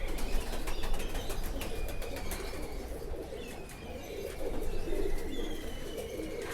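A broad-boned black chapdar pigeon hen coos low and soft amid a dense, steady bed of flock noise and wing flutters, fairly faint and close, with no talking.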